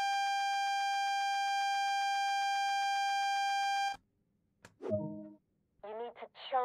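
The AWS self-test alarm in the Train Sim World game sounds as a steady electronic tone for about four seconds, then cuts off, followed by brief speech.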